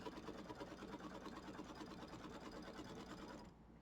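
A sewing machine stitches the quilting on a Kimberbell mini quilt with blue thread, a fast, even hum of needle strokes that runs quietly and then drops off near the end.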